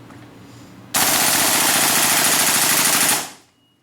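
A propane-powered SCAR H airsoft gun fires in full auto, one sustained rapid burst of about two seconds that starts abruptly, stays loud and close, then cuts off with a short fading tail.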